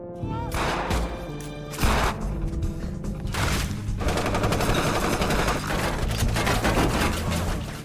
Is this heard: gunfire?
yes